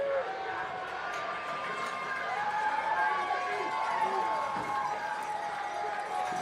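A high school football crowd in the stands roars steadily throughout, a broad sustained cheer with a commentator talking over it.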